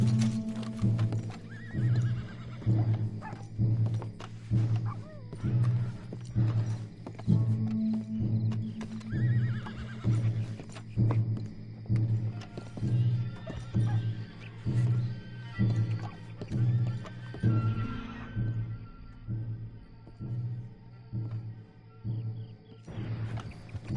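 Horses in Red Dead Redemption 2 neigh and whinny repeatedly over a steady, rhythmic clip-clop of hooves, loud and close throughout with a low drone underneath.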